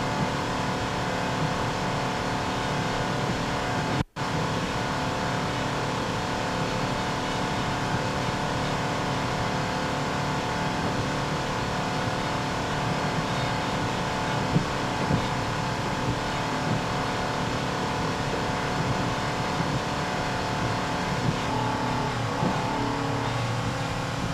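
A Max Q Racing one-design race boat, a Rindle, roars steadily toward the finish of race two at the 2003 APBA St. Petersburg national, its engine drone loud and continuous for over twenty seconds.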